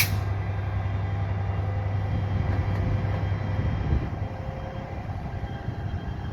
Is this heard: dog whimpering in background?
no